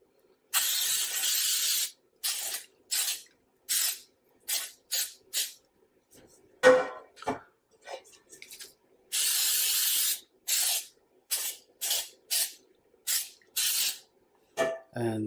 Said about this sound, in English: Okay, so I'm going to spray down these pans.